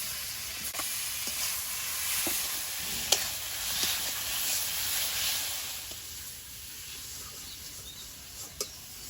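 Spices frying in oil in a kadai sizzle steadily, with light stirring clicks and scrapes and a couple of sharper taps as tomato goes into the pan during preparation of a Bengali tel koi fish curry.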